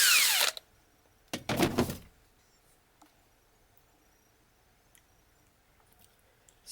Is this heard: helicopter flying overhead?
no